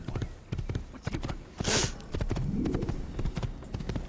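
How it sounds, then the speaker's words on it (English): Horse hooves clip-clopping in a steady galloping rhythm in the video game Assassin's Creed, loud and close, with a brief whinny partway through over continuous game ambience. "And now I'm going to steal this horse,"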